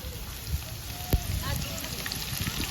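Chopped garlic frying in hot oil with cumin seeds gives a steady close crackling sizzle, with a brief sharp pop as the garlic goes in and a voice speaking over the hiss.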